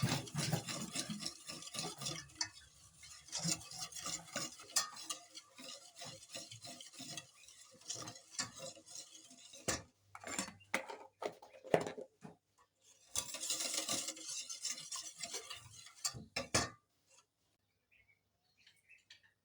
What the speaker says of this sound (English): Whisk, whisk.